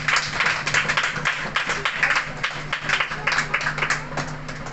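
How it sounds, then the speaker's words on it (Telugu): An audience applauding at a meeting, a steady wash of many hands clapping together that holds for several seconds at moderate loudness. "అందరూ కూడా చప్పట్లు కొట్టాం వనిత"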